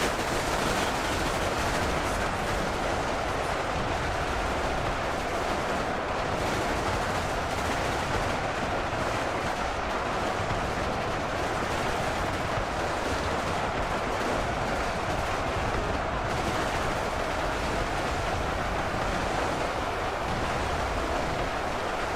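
Ork guns fire nonstop into a Skaven horde in a Warhammer 40k game, a dense, unbroken wall of rattling gunfire and battle din that stays loud and even from start to finish.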